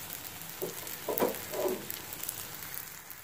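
Paratha sizzling and frying on a hot pan after being flipped, a soft steady crackle with a few louder spatters, close and with no talking.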